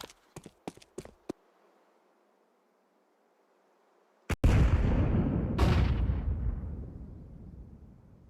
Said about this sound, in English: grenade dumping that we're seeing